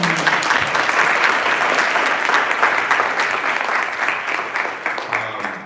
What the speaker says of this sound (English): So a round of applause for Omar.